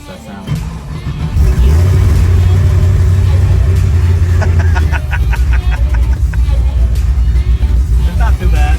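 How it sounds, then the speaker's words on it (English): A pro charged Chevy II Nova engine fires up and runs on a test drive, a loud, deep, sustained rumble close by with some revving, while people talk over it. "it's time to set it back on the ground so that Richard can take it for a test drive"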